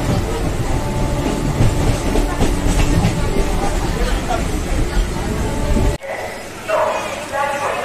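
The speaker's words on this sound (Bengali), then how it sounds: "মাঝেরহাটের ট্রেনে বসে আছি" Rumble and rhythmic clickety-clack inside a moving Majerhat local train, loud and steady, with people chatting around it, before the noise suddenly drops away near the end.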